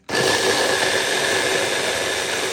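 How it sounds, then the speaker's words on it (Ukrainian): An electric kitchen blender grinds cut onion, starting abruptly and running as a loud, steady high-pitched whir with no voices over it. "Перерізаю цибульку і складаю в блендер."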